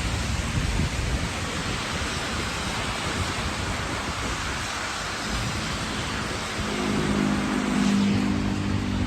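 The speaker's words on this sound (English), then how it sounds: "I like it so much when it's raining." Steady broadband hiss of rain falling, continuous and fairly loud throughout, with a low rumble joining near the end.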